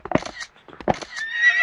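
A horse whinnies in two close bursts, the second trailing into a high, wavering neigh, loud and near with nothing else around.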